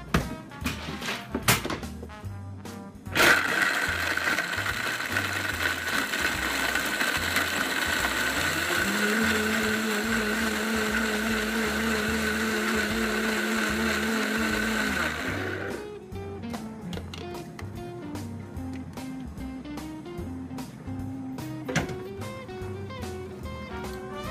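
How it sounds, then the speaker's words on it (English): Blender crushing ice with drink ingredients for a peppermint mocha frappuccino, a steady loud whirring grind that shifts pitch midway and runs about twelve seconds before stopping, with clattering handling noises around it. "After pouring all the ingredients in the blender, that is when you put the ice."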